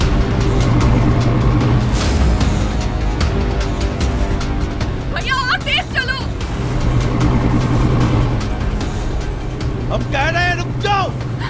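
A car drives fast with a continuous loud engine and road rumble, while people talk over it throughout.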